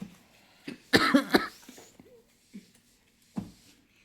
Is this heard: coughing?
yes